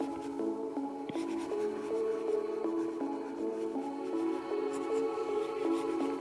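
A pencil lightly sketches an oval on paper, a soft continuous scratching heard beneath steady background music.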